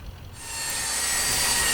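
A belt sander fitted with fine sandpaper and powered by a generator, starting after a brief moment of handling and then running steadily with a loud, bright abrasive hiss, close up.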